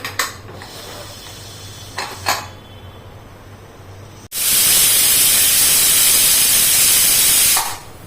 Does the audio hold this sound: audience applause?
no